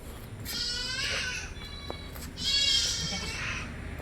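Two female milking goats bleat in a livestock yard, two long wavering bleats about two seconds apart, close and clear over low background noise.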